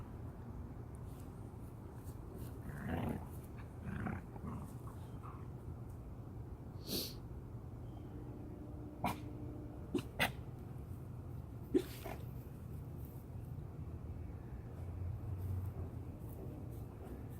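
Puppies at play give short snorts, sneezy huffs and brief growly noises scattered over a quiet background, close by and faint, with no talk.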